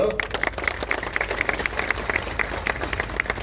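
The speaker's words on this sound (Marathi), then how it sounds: "मी बोलल्यानंतर टाळ्या वाजल्या" Crowd applause at a political rally in Akole taluka, steady dense clapping from a large audience, moderately loud and continuous with no talk over it.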